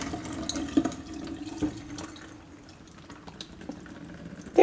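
Water trickles and drips from soaked sprouting bean seeds draining in a kitchen sink, a soft steady patter with a few louder drops and faint handling clatter.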